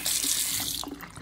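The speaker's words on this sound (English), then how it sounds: "I'm draining out the soap." Running water pours and drains steadily from a sink where toy die-cast cars were washed, rinsing out soap; a continuous splashing flow fills the clip, then eases into softer trickling and gurgles near the end.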